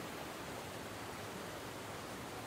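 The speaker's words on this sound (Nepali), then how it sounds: "नेगुवा खोलाको बिचमा छु ठ्याक्कै यो चाहिँ उत्तर वाहिनी नदी हो" The Negua river, a north-flowing stream, gives a faint, steady, broadband rush of flowing water throughout, heard from midstream with no voices.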